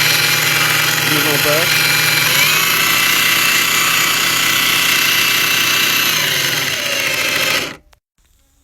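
Parkside X20V Team cordless power tool running at its lowest speed setting, a loud steady motor whine and buzz that holds for about seven and a half seconds before cutting off abruptly, with a voice speaking over it.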